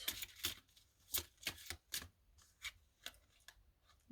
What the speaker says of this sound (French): Je suis en train de faire tomber les cartes.